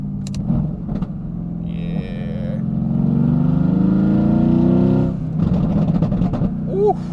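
An exotic sports car in sport mode accelerates with a deep, rising engine roar that builds steadily, then drops away into a burst of crackling exhaust pops near the end.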